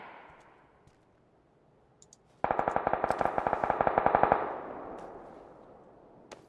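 A rapid burst of automatic gunfire from PUBG on the Erangel map rattles for about two seconds, then fades into an echoing tail, with a few faint clicks before and after.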